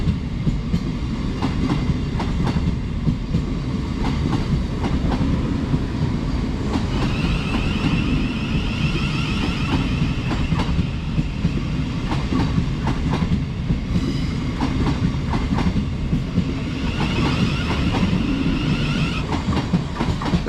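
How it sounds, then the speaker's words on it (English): Southeastern class 707 electric train 707011, bound for Gravesend from London, pulling out of a Kent station, a steady rolling rumble with regular wheel clacks over rail joints and brief squeals of wheel on rail, loud and close throughout. "Departing out is 707011, which is heading to Gravesend from London, Charing Cross"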